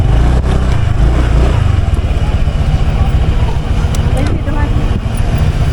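Motorcycles pass and rumble on a street, giving a continuous loud low engine drone with pulsing revs close by, and background people talk over it.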